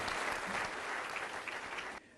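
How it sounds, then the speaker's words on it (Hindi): A gathering marking Bhagat Singh's birth anniversary breaks into continuous applause for an honoured guest. The clapping stays dense and even, then cuts off abruptly near the end. "जोरदार तालियों से आप सर का अभिनंदन करें"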